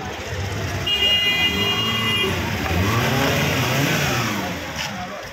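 Engines drone and rev on a congested street in Charnipada, Mumbra, with a car passing close and a brief whining tone over a steady rumble of traffic; a voice is faintly heard.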